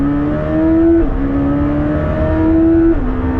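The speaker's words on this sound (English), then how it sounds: "the brand new Temerario, their new V8, which sounds like a superbike" The V8 of a brand-new Lamborghini Temerario sings loud and close, shrieking high like a superbike and climbing through a string of rising pitch sweeps broken by brief dips at the gear changes.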